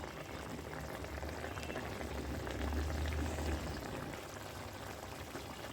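Fish and bottle gourd gravy simmers and bubbles in a pot, a steady low bubbling hiss that swells slightly midway and carries on alone.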